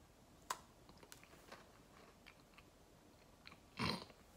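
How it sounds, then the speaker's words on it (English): Someone bites into a Simpsons chocolate biscuit and chews quietly up close, with small crunchy clicks scattered through and a louder crunch near the end, no speech. "I feel like I should try this biscuit, right? Maybe just a little bite?"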